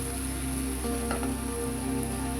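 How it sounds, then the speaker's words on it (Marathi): Steady sizzling of hadga (sesbania) flowers sautéing in hot tempering oil, with a brief stirring scrape in the middle; constant and close, no voices. "फुलं फोडणीत घातल्यानंतर आपल्याला छान परतून घ्यायचे आहेत"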